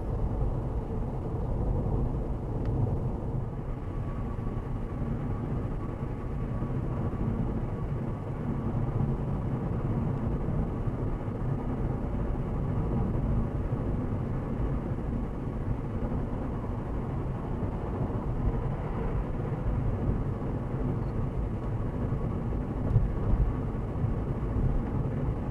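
An old car racing along the 417 highway, a steady low engine and road rumble that holds evenly throughout, fairly faint and alone with no talk.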